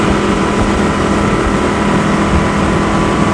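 A Sea Ray Sun Sport 250 motorboat engine runs loud and steady at speed, around 70 km/h, a continuous dense roar mixed with rushing water and wind and no voices.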